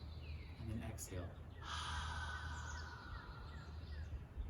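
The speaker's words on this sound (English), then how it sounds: "Inhale, and then exhale." A person breathes in and then out through an open mouth, a close, airy inhale followed by a longer, sighing exhale.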